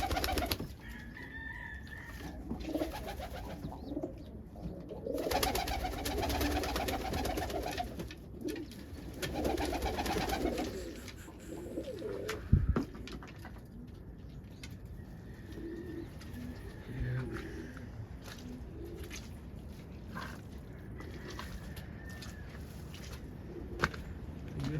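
Indian fantail pigeons coo softly in low, throaty bursts, with a couple of louder stretches and quieter calls in between against a faint outdoor background.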